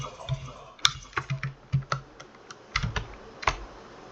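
A computer keyboard typed on at close range: irregular bursts of sharp clicks and key taps with short pauses between them, and no talking.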